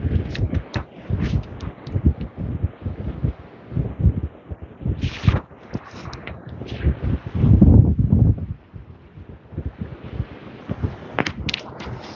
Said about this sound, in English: The wind is so strong it just blows the tripod right over.